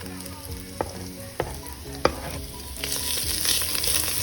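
Ground turkey fries in butter and oil with a steady, soft sizzle, broken by a few sharp clacks of a utensil stirring the pan, no voices.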